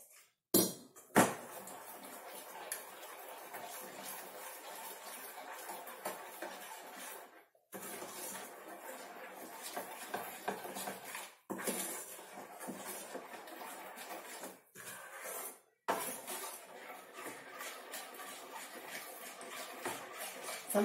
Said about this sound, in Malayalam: അപ്പൊ ഞാൻ ഇങ്ങനെ ഇവനെ നന്നായിട്ട് നല്ലപോലെ അങ്ങ് കലക്കി കൊടുത്തു